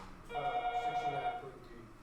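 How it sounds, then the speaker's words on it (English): A telephone rings once with a warbling electronic trill lasting about a second in a classroom, fairly near, with faint room noise around it. "Well, I get the phone."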